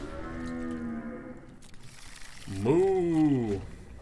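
A cow mooing sound effect from the MTG Arena card game: two drawn-out moos, the second louder with a rising and falling pitch, heard alone without talk.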